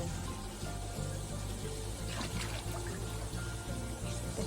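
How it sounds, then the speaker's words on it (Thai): Water splashing in a private pool villa: a constant dense wash of splashing and pouring water, fairly loud and steady throughout with no clear breaks. "น้ำกระจายกระจายเชิญ"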